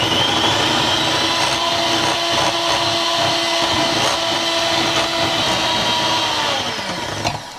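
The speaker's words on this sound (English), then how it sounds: "you want to start gradually sprinkling in the sugar while you are beating the cream the rest" An electric mixer runs steadily at high speed, whipping cream while sugar is sprinkled in until stiff peaks form, a loud continuous whine with no talk that winds down slightly at the end.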